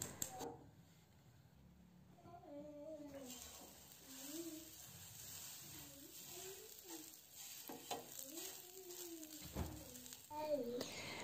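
Butter sizzles softly in a frying pan heating on medium, with light scraping and stirring sounds. A steady low hiss sits under someone speaking throughout.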